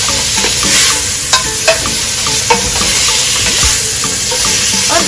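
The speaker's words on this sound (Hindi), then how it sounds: "हम टमाटर डालेंगे, हम गाजर डालेंगे, और हम इसे मिलाएंगे" Tomatoes, carrots and fresh turmeric are stirred in a pan, a loud close sizzle broken by several distinct scrapes and knocks of a spoon against the metal.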